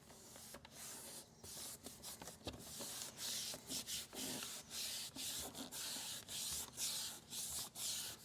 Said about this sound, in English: We're just rubbing our hand over it, giving it good even pressure as we go.